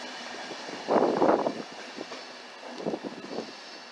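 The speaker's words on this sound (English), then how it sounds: "here we see the Start Unterelbe train heading right towards Lübeck and Berlin" A Start Unterelbe regional train passes at Hamburg Hauptbahnhof on its way toward Lübeck and Berlin, a low rumbling roll that swells briefly, fades, and returns softer amid the echoing station hall.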